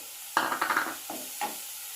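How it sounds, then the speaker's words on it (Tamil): Chopped cabbage and carrot being stirred with onion in a pan for a wheat momo filling: a short burst of scraping, tossing strokes near the mic, then two brief lighter stirs, with no talk. "கேரட், இது ரெண்டையும் போட்டு நல்லா மிக்ஸ் பண்ணிக்கிறேன்"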